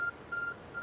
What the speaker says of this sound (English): There's a glowing beeping object over there. I think this is my phone.